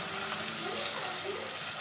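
Chopped tomatoes and small chillies sauté in a pan for a Tamil fish curry. A soft, steady sizzle and hiss runs throughout, faint and close.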